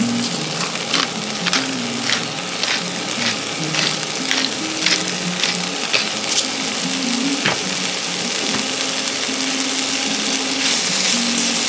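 Seasoned potatoes sizzle steadily in a frying pan while being stirred, with continuous crackling frying broken by sharp clicks and scrapes of the utensil, close and fairly loud.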